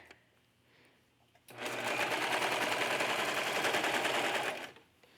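A sewing machine runs in a single steady burst of about three seconds, stitching through thick layers of a hooded cape. The sound is close and loud, with quiet room tone before and after.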